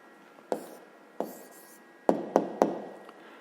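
Pen writing an answer on paper during a physics exercise, a few sharp scratching strokes and taps spaced irregularly, the last three in quick succession, close and quiet with no talk.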